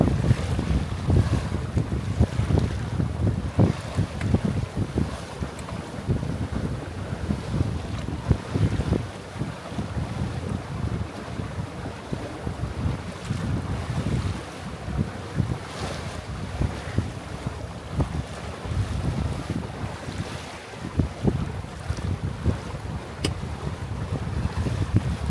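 Wind roars steadily across the microphone aboard a Catalina 22 sailboat carrying a 150 jib on a breezy afternoon of roughly 5 to 8 knots with gusts, with waves washing along the hull in a continuous loud rush and no voices.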